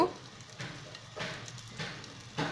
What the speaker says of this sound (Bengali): এখন এর মধ্যে দেব কালো জিরা আর দুটো কাঁচা লঙ্কা চেরা কাঁচা লঙ্কা ফোড়ন